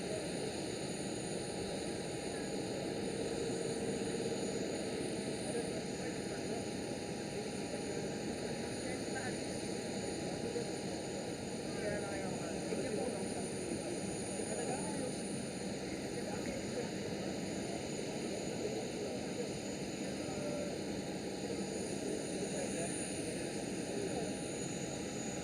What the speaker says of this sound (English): KLM 737 rolling off the runway right now.